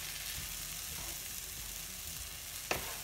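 Chopped tomato, peppers and onions sizzle steadily in a frying pan, a close continuous crackle with a single sharp clack of a utensil near the end.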